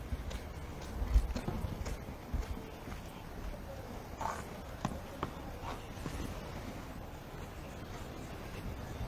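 Horses clip-clop at a slow walk on the Garrison Savannah racetrack in Barbados at daybreak, scattered hoof knocks fairly faint against steady outdoor rumble and light wind noise.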